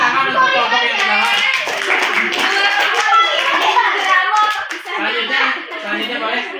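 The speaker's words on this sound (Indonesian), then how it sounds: "tepuk tangan untuk kelompok yang pertama" A high school classroom breaks into applause for the first group after a micro-teaching presentation, dense clapping from many hands close by, with students' voices chattering over it.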